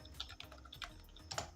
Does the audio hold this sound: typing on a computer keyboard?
yes